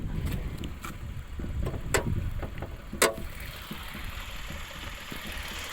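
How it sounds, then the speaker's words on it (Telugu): A white Suzuki Swift's roughly 1200cc petrol engine idles with a low, even rumble, joined by a few sharp clicks and knocks nearby, no voices present. "ఇదైతే చాలా ఫేమస్ సుజుకి ఇంజన్ అనమాట."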